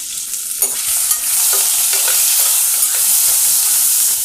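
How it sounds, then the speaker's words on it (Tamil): Tomatoes sautéing in a pan with curry leaves, turmeric and salt give a steady, close sizzle, broken by a few scraping stirs near the start. "இது வதங்கின்னு இருக்கட்டும்."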